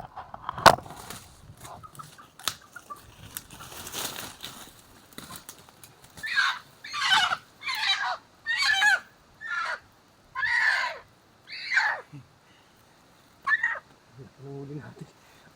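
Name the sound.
rooster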